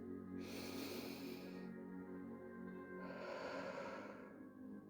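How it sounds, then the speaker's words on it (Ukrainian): Slow, deep breaths drawn in and let out close by, two long airy swells of inhale and exhale with a soft hum underneath, no talking. "Вдих і видих."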